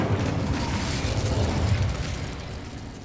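A fire spell cast in a Harry Potter video game: a sustained roaring, crackling whoosh of flame that stays loud and steady for about three seconds, with no talk over it.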